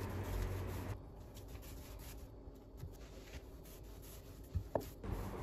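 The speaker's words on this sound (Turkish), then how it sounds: "Hazırlamış olduğum hamuru streç üzerine alarak bir merdane yardımıyla ince olana kadar açıyorum." Dough rolled out thin on plastic wrap with a rolling pin: faint, soft rubbing and scraping strokes with a few light taps, quiet and close.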